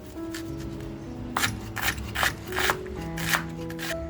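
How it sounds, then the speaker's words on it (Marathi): A knife finely chops onion on a board in a home kitchen, a few quick clusters of crisp cutting strokes over a faint background hum. "जो कांदा आपण घेतोय तर एकदम बारीक कांदा कापून घेणार आहे"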